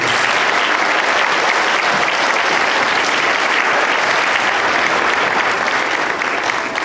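School Veterans Day assembly audience applauding, dense steady clapping from a large crowd throughout.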